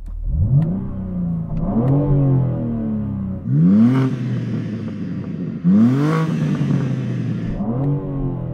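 A new BMW M4 Competition engine revs up several times while idling stationary, heard from inside the car, each rev rising sharply then dropping back, with a steady low rumble between bursts.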